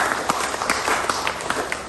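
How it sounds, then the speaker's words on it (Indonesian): A crowd applauds with dense, steady clapping at a Christmas gathering in a prayer house in Jayapura, Papua, keeping an even level throughout. "Beri tepuk tangan untuk mereka."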